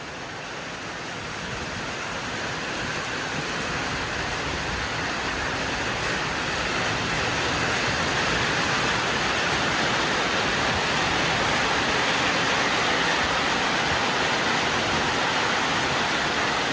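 Rain falling steadily outdoors in Thailand, a broad continuous hiss that swells slightly louder over its length, with no voices.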